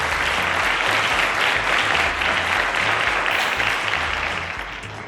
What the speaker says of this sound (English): A round of applause to Amarachi.